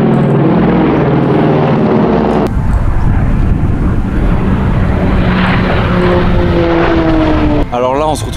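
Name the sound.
Second World War propeller planes flying at air show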